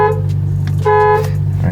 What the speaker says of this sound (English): Go ahead and honk the horn.